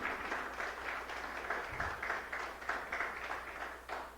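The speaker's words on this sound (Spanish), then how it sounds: "Denle un aplauso al Señor." Congregation clapping during an evangelical church service, a faint, steady wash of many hands that continues evenly in a reverberant room, with a few slightly louder bursts.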